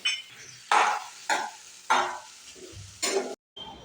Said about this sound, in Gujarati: બસ હવે ભીંડો નાખી દે. થાળીમાંથી નાખી દેવાનો બધો.